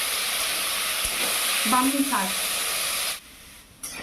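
Potatoes fry in a pan for a brahmi greens (Bacopa monnieri) dish, giving a steady, close sizzling hiss that cuts off near the end, with a brief spoken phrase over it.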